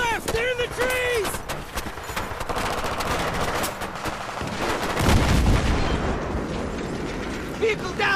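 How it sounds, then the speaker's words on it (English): Gunfire during an ambush in a Battlefield 3 cutscene: sustained automatic weapon fire and mechanical clatter under shouting voices, with a heavier boom near the middle and constant combat noise throughout. "Vehicle down, taking fire from the left!"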